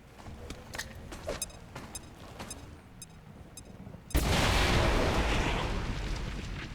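A grenade blast in XCOM 2 erupts abruptly and loudly after scattered quieter game sounds, then roars and rumbles on as a sustained, dense wash until the end.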